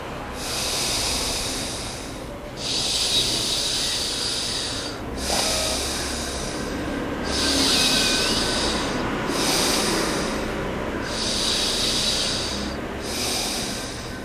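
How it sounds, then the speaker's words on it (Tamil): Slow alternate-nostril breathing during a nadi shuddhi yoga exercise: long, airy breaths rise and fall in a repeated rhythm, about six breaths in fourteen seconds, close to the microphone with no talk over them. "இடது நாசியில் மெதுவாக மூச்சை உள்ளெழுத்து மெதுவாக மூச்சை வெளியே விடுங்க"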